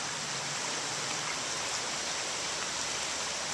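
Broadway Creek near Broadway Lake, swollen and overflowing after hard rain, rushes with a loud, constant roar of churning water that stays unbroken and close.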